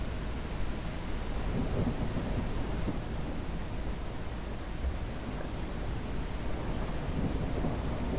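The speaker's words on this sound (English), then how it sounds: "Yeah, storm driving." A thunderstorm with heavy rain, heard while driving, produces a dense, steady roar of rain and low rumbling thunder that stays loud and constant throughout, with no talking.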